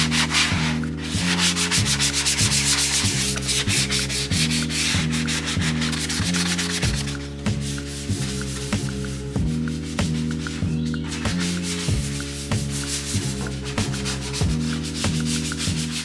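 Hand sanding over primer in a car engine bay, a continuous close scratchy rubbing with repeated back-and-forth strokes in a steady rhythm, loud and without talk.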